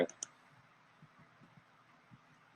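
Mouse clicks while clicking a Next button during Gmail signup on a computer: a couple of sharp, close clicks at the start, then faint soft ticks over quiet room tone.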